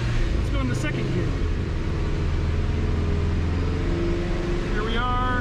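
A Subaru GR/VA STI engine pulls in second gear with a low, steady drone and a rising whine near the end, while someone talks over it.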